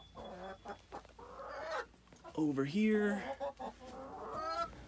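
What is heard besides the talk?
backyard chickens clucking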